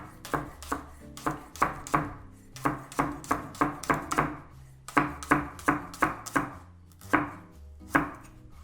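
A kitchen knife chops leek on a cutting board for a Korean kimchi, striking in quick regular bursts of sharp close knocks with short pauses between runs, no voices.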